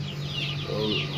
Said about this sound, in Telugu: ఇవైతే మన జాతి కోడి పిల్లలండి